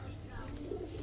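Giribaz pigeons coo softly in a steady low murmur, close by against a constant background hum.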